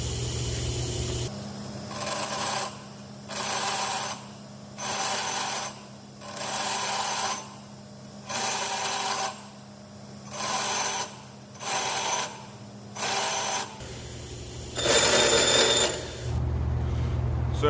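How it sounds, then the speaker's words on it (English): Bench grinder taking the corners off a 15/16 bolt, a steady motor hum broken by repeated rhythmic grinding passes of about a second each, close and loud. "We're going to take this thing to the grinder and we're really going to simulate a fucked up bolt"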